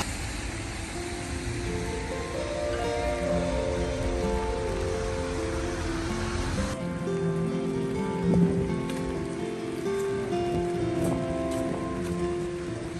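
Steady rain falls on a Saturday morning in Hamburg, Germany, a continuous broadband hiss with dense patter that stays loud and even throughout, with one brief thump partway through and no voices.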